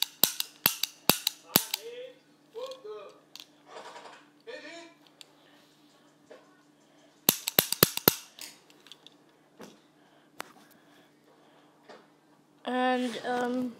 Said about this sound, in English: I'm gonna shoot without the BB